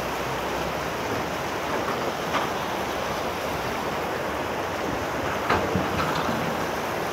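A flooded mountain stream rushes in a constant, dense roar of churning water, with a few faint splashes rising briefly above the steady wash and no voices.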